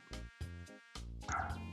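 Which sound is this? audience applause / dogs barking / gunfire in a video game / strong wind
dogs barking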